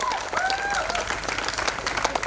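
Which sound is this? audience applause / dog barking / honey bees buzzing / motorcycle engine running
audience applause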